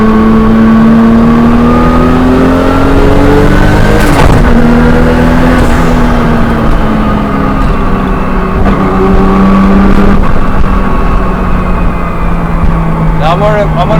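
Nissan Skyline R34 GTR engine while driving, a loud steady drone with smoothly rising and falling pitch as the revs change, heard from inside the car with a voice speaking over it.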